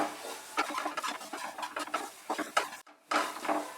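Grated khoya is stirred in a hot pan over medium heat, giving close, irregular scraping and patting strokes of a spoon against the metal, with one brief pause before the stirring resumes.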